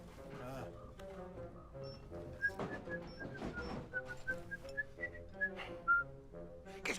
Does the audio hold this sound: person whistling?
yes